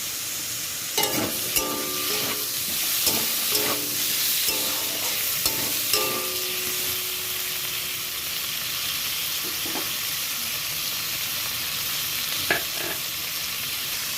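Potatoes and tomato frying in a pan, a constant hissing sizzle with a few clinks and stirring scrapes early on, then mostly steady frying with an occasional utensil knock.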